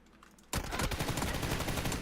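Sudden burst of rapid automatic gunfire in a shooter video game, loud and dense after a quiet half second of background.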